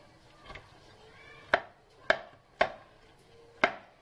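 A knife stabs and pierces raw chicken as it is cleaned, for a grilled oven chicken lunch. Four sharp close knocks land at uneven intervals, with a fainter one before them.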